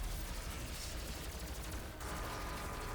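Rapid machine-gun fire in a video game, a dense continuous burst of shots with heavy noise across the whole stretch, fairly quiet overall with no voices.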